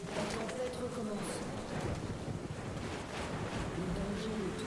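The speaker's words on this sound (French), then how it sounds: "La tempête recommence." Storm wind in the video game Metro Last Light, a steady roaring, gusting rush that fills the whole stretch, with a voice murmuring faintly underneath.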